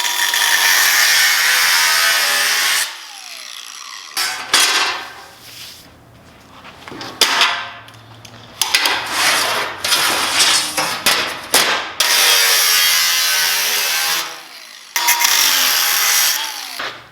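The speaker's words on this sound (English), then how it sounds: "Now what you want to do is not cut through, just make a groove" A power cutting tool grinds a groove into a thick metal piece for a K24 AE86 subframe rebuild, loud, harsh bursts separated by pauses and quieter clattering handling sounds.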